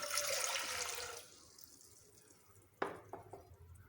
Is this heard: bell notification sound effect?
no